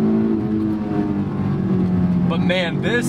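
A Honda S2000 engine drones steadily under a voice, then rises sharply in pitch as it revs hard, VTEC engaging at 6,000 rpm.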